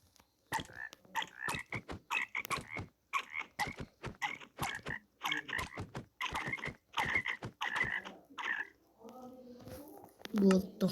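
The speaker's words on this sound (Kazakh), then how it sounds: "қазір менің қасыма құрбақа жүр" A frog in the Minecraft video game croaks in quick repeated bursts, a rhythmic series of short raspy calls, followed by a brief spoken voice at the end.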